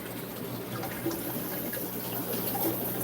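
Water from an open tap runs steadily into fish tanks during a water change in a fish breeding room, a continuous close trickling and splashing wash with no talking.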